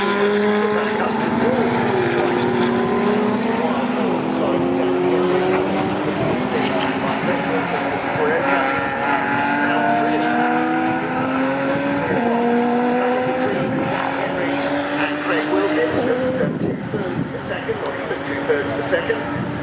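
GT4 race cars at Silverstone during a Masters GT4 Classic race, engines rising and falling in long sweeping pitch glides as cars pass and accelerate, loud and continuous beneath a commentator's voice.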